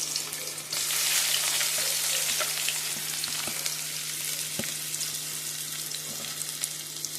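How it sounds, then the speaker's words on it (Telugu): Onions frying in hot oil for a Telugu ridge gourd curry, a steady dense sizzle that jumps louder once they hit the pan and keeps up with faint stirring clicks, no talking. "ఆయిల్లో ఆనియన్ బాగా కుక్ చేసుకోవాలి ఫ్రెండ్స్."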